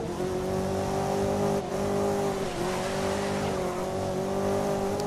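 Race car engine from the racing game GRID (2019), an Aston Martin GT on a hot lap, holding a loud, steady high-revving drone with small pitch shifts throughout, alone and up close.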